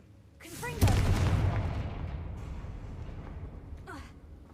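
A Confringo fire spell explosion in the video game Hogwarts Legacy: a single sharp blast bursts in, then a broad rumbling roar that slowly fades over several seconds, with a brief whooshing effect near the end.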